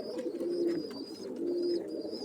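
Pigeons coo in repeated soft, low calls, a few overlapping phrases in steady succession, close by and with no talking.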